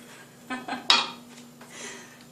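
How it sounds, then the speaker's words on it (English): A spoon stirs homemade tomato sauce in a pot, giving a few distinct scraping clinks against the metal, the loudest in the middle, then softer rubbing, in a quiet kitchen. "we're going to give it a stir"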